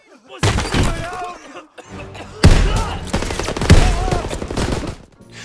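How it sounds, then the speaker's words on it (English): A gunfight in Paris in Call of Duty WWII: loud, dense bursts of automatic gunfire and impacts, with shattering and shouting voices mixed through the chaotic clamor. "And then I think back to that gunfight in Paris."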